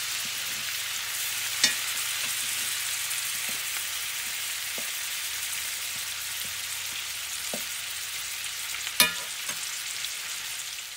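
Onions fry and cook down in a pan with a steady, even sizzle, close and moderate in level, marked by a few faint ticks and two sharper spatula clinks along the way.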